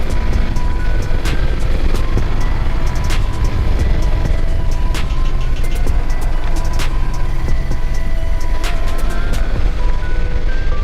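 A Suzuki GSX S150 motorcycle engine runs steadily in a broadband roar with repeated sharp transients, consistent with revving through clutchless upshifts; loud and close, no speech.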